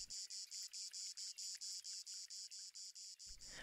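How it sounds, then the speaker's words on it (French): Cicadas in pine countryside give a loud, close, high buzzing chirp that pulses in a rapid, even rhythm and stops abruptly near the end. "Les cigales prennent le dessus sur tous les autres bruits ambiants."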